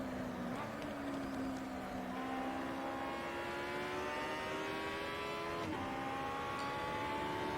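An Aussie Racing Car engine at Hidden Valley Raceway in the Automobilista sim, droning steadily and rising in pitch through the gears, with one brief dip and a shift near the end.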